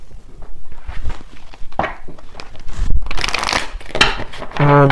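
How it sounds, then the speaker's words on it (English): Oracle cards being shuffled by hand, close riffling and sliding bursts with soft rustles in between, ending in a louder quick riffle. "let me grab a few oracle cards here"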